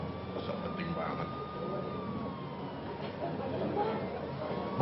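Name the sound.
ambulance siren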